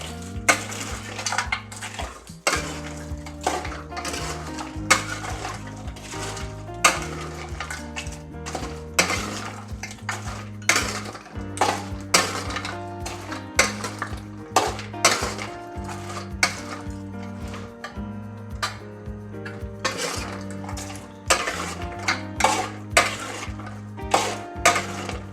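A spoon stirs diamond cuts snacks through sugar syrup in a pan, making a steady, busy scraping and rattling that goes on throughout, with frequent sharper knocks against the pan.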